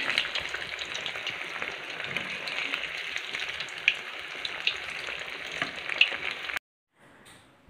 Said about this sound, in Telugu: ఇలా సిమ్లో పెట్టి ఫ్రై చేసుకుంటే మనకి లోపల వరకు కూడా బాగా కుక్ అవుతుంది